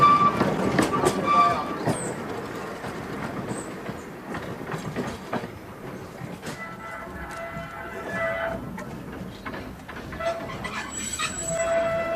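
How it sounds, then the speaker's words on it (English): A narrow gauge tram on the Seaton Tramway in East Devon rumbles past with clattering wheels and high metallic squeals near the end, a steady close pass with no break in the noise. "Just waiting for another tram, folks."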